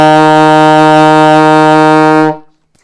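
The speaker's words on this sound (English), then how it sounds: "Now, our third C on our saxophone." Alto saxophone sounding a low C, one steady, loud and buzzy sustained note held for about two seconds before stopping cleanly, with no talk over it.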